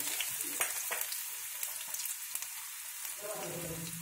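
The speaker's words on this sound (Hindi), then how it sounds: "अब हम इसमें डाल देंगे अदरक लहसुन का पेस्ट और साथ में कटी हुई प्याज" Ginger-garlic paste and chopped onion sizzle in hot oil in a pan, a steady crackling fry with occasional stirring scrapes close by.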